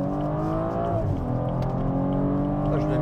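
A stage 1 tuned BMW M135i engine revs hard with a loud, steady harmonic drone that swells and shifts pitch slightly mid-clip. It holds close and continuous throughout.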